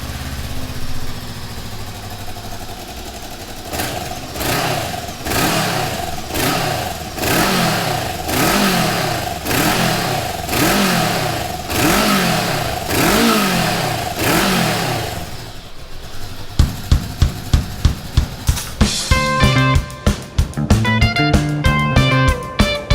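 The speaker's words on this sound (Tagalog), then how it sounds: "let's check out how the Bristol sounds now. Let's turn it on." A Bristol Veloce 500 scooter engine cranks through a series of slow, rhythmic whirring turns, then catches and bursts into rapid, loud popping beats as it revs.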